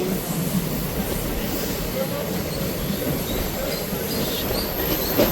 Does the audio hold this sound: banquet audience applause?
no